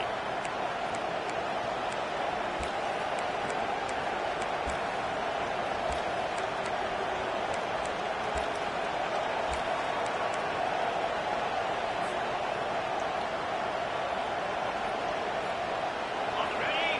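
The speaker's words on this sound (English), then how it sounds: "The roar of the crowd trying to fuel this defense to keep them pinned in their own end." Dense, steady roar of a large football stadium crowd, sustained and loud from start to finish, with faint scattered clicks above the wash of noise.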